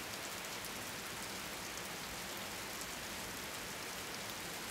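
Steady rain falling at night, a dense, even hiss of drops with no break or voices across the whole stretch.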